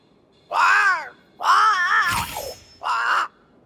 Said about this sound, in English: But it's a bird. It's Ceridian, by way of the invisible, speaking through the crow.